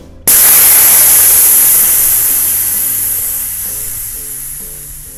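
Air rushes steadily from a tire valve as it is deflated, a loud, close hiss that starts abruptly and slowly fades over several seconds with no talking.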